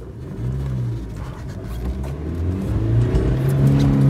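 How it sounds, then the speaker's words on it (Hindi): A Mahindra Scorpio SUV accelerating hard from inside the cabin, the engine note rising in pitch, dropping at a gear change and climbing again as it pulls through the next gear, steady and close. "4000 rpm मैंने दूसरा गियर शिफ्ट करा, थर्ड गियर टच कर गई"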